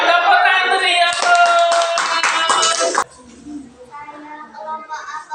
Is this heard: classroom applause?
yes